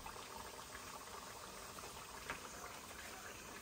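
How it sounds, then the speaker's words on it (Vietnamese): Potatoes fry in hot oil for a curry in a home kitchen, giving a faint, steady, even sizzle and hiss throughout, with no talking. "Cà ri này mà ngon là do khoai chiên."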